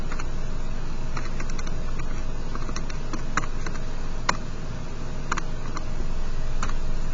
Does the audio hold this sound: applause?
no